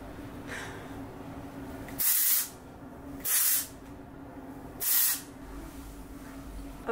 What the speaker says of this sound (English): so we're gonna use the Way texturizing spray